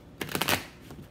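Tarot cards get one brief shuffle: a quick close riffle of a few soft slaps, lasting under a second.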